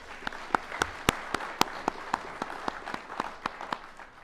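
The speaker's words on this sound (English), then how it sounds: "Another round of applause for Myles." A few people clap sparsely at a university athletic Hall of Fame ceremony, distinct individual claps in an irregular but steady patter against a soft, low room murmur.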